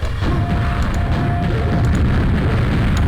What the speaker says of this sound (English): But I see a rocket jump right up here.